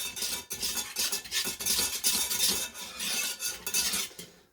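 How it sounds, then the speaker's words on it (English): Paprika being stirred into a thickened milk sauce for baked macaroni and cheese, a utensil scraping steadily around the pan in continuous close rhythmic strokes with no talking. "So we're going to add our paprika. I'm going to stir that in."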